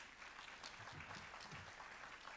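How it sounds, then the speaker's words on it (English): Steady applause from a congress audience fills the whole stretch, dense and even, with a few faint voices underneath. "Merci de l'applaudir."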